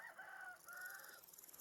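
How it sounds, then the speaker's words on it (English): A rooster in Vintage Story crows once, a drawn-out two-part call that rises and holds, fairly faint and heard alone. "He keeps crowing at every hour of the day."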